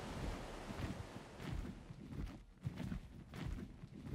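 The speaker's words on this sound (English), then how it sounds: "That was a mini waterfall." Small waterfall in the video game Ark, a steady broadband rush of falling water with a low wind-like roar, continuous and fairly near, no voices over it.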